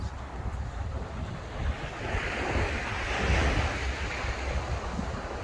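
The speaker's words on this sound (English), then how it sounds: "This is a nice quiet beach." Waves wash steadily onto a quiet winter beach at Oeiras on the Lisbon coast, a broad continuous surf roar that swells a little midway, with wind buffeting the microphone and no voices.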